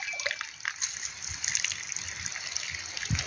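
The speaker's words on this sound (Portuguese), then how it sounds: "Porque você vê a água, digamos, contaminada que vai entrando" Water pours steadily into a jar with a continuous splashing gush and light bubbling, close and fairly loud, with no voices.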